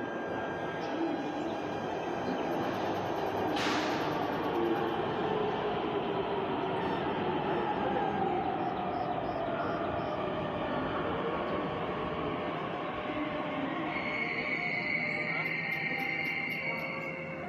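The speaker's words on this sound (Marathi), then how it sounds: "ही बघा येयली मेट्रो" A metro train rolls into a station platform with a steady, loud rumble and rising whine that lasts throughout, while faint voices and a brief chime sound in the background.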